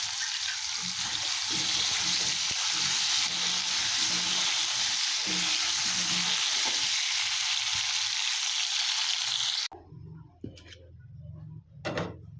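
Potatoes frying in a wok give a loud, steady sizzle for most of the clip, then drop to a quieter hiss with a few clinks near the end.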